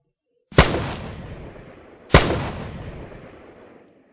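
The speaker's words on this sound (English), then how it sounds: "We just got a message that Michael shot a bull." Two loud rifle shots from a moose hunter firing at a bull, each a sharp crack followed by a long rolling echo, about a second and a half apart, in quiet open country.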